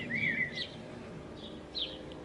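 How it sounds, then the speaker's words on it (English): A blackbird perched on a neighbour's TV aerial sings in two short phrases of whistled, fluty notes, heard from a short distance outdoors over faint ambient noise. "He's getting his revenge now, isn't he, that Blackbird?"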